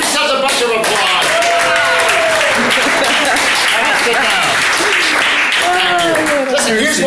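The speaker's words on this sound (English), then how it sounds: "Give yourselves a bunch of applause" Audience applause and clapping after a group sing-along, dense and steady throughout, with a voice carrying melodic phrases over the top.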